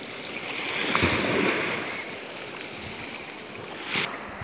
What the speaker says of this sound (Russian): И какой вот этот звук волн.